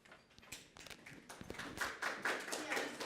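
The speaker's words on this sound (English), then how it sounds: "Let's start from applauding." Audience applause at a seminar session of a medical assessment course, a soft, fairly distant patter of many hands clapping that swells slightly over about three seconds, with faint voices underneath.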